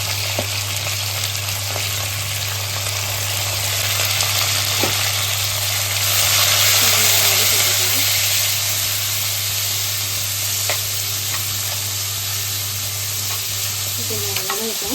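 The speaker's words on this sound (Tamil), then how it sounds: "காஞ்ச மிளகாய் வந்துருச்சு. வந்து இப்போது ஆனியன், கறிவேப்பிலை, இஞ்சி, பூண்டு" Onion, curry leaves, ginger and garlic fry in a pan with dried chillies, giving a steady close sizzle and hiss for the whole stretch while a spoon stirs now and then over a low constant hum.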